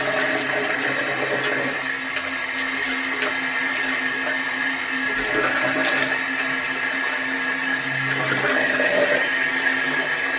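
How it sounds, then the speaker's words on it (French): Tap water running steadily while rinsing in a home bathroom, a loud continuous rushing flow with faint background sounds and no talking. "Et après je viens rincer."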